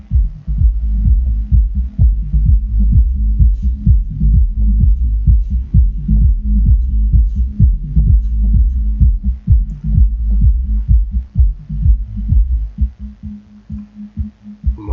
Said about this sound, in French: Ah, ben, il tourne le ventilateur.